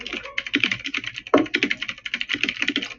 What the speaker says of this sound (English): He's a fast typer.